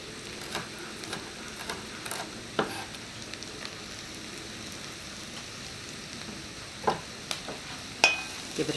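Big hunks of bacon fry in a pot for cauliflower–sweet potato soup, a soft continuous crackle broken by a few light scrapes and taps as the pieces are stirred.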